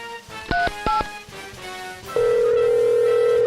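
A phone call in a Batman-themed video game starts with two short dialing beeps, then a steady, loud ringback tone sounds alone while the line rings.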